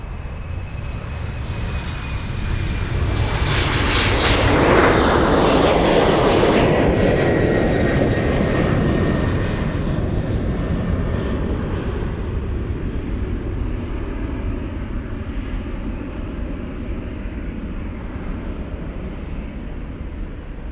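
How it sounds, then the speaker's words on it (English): An Air Dolomiti airliner takes off at Munich airport, its jet engines swelling into a loud roar that peaks a few seconds in, then fades gradually into a distant rumble as it climbs away. "let's go for the Air Dolomiti takeoff"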